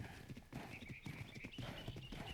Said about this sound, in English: We've got ourselves a horse.